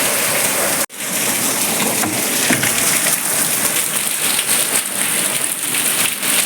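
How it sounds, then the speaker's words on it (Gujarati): Heavy rain pours down in a dense, constant hiss, briefly cut off near the start, then drumming steadily on a surface close by. "જો કેવો વરસાદ આવે બતાવું તમને લોકોને"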